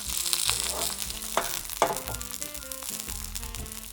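Peppers and onions fry in a spoonful of oil for a king prawn biryani, a soft sizzle with a few sharper clatters from stirring, fairly quiet and without speech.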